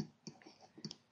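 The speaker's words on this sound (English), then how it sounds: "Typing this into my calculator gives me that sine A" A few quick, light calculator button clicks close by, tapped in a short irregular sequence, quiet and crisp.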